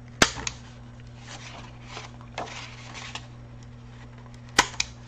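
A corner punch rounding the edge of a paper file folder for a pocket journal, a few sharp isolated clicks spaced over several seconds against a faint steady hum.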